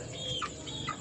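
A Spartan Black game fowl stag gives two quick, soft clucks, close by but faint, with no voices.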